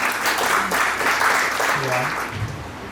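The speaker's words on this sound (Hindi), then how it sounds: "जोरदार तालियों से स्वागत करें।" Applause from an audience at a school event honoring soldiers, as a chief guest is welcomed to the stage; dense, steady clapping fills the clip with voices mixed in.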